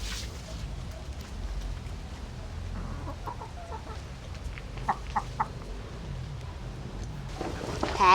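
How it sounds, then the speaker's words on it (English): Chickens cluck in short bursts close by in a garden over a low background hum, with a louder squawk at the very end. "I'm just gonna give the chickens like a worm"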